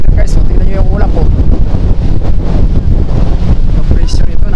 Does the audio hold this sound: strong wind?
yes